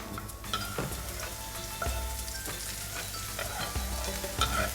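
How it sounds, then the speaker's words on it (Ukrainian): Steady sizzling of garlic frying in a hot pan, soft and continuous with faint scraping stirs, no voices. "І ми відправляємо це все в розігріту сковорідку."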